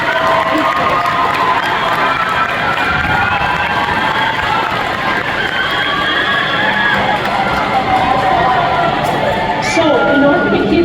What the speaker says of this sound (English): A round of applause for all of their teachers, please.